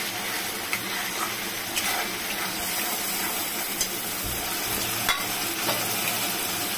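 Spice powder and kasuri methi fry in a pan for paneer kofta curry, giving a constant close sizzle with scattered scrapes and clicks of a spoon stirring, and no one speaking.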